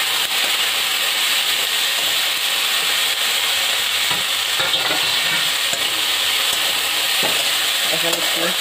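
Loud, continuous sizzling of eggplant pieces frying with chilli in a pan for a red amaranth greens dish, with faint stirring scrapes and a few light knocks toward the end.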